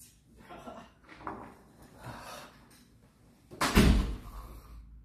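An indoor door closes with a single loud thud near the end, after soft shuffling and faint breathing sounds in a quiet room.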